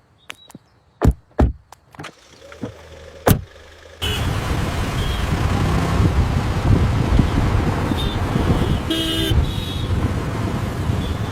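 A car on the move, with a few sharp knocks or door thumps and then a sudden steady engine and wind rush. Brief horn toots cut through the driving noise, and no one speaks.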